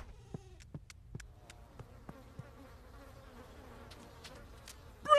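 Honeybees buzz in a low, steady drone, close by, with faint scattered clicks and a sudden louder sound at the end.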